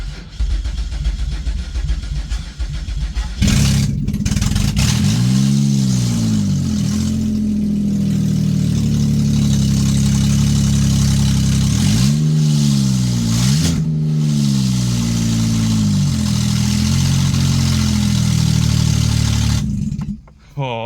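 A 2012 Chevrolet Impala engine cranks and catches, then runs roughly with a low steady idle broken by several rising and falling revs, loud and close before cutting off at the end.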